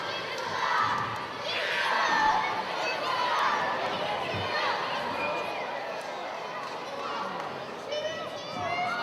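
A wrestling crowd reacting after a chair is thrown into the ring: a distant roar of many voices with shouts and cheers, swelling and easing in waves under a commentator's voice.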